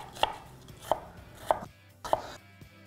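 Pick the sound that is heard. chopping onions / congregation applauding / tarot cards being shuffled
chopping onions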